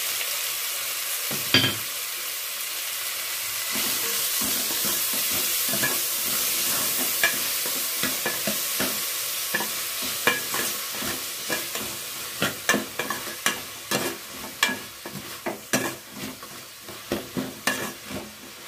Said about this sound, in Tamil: ரெண்டு பெரிய தக்காளி ஆட் பண்ணிக்கலாம்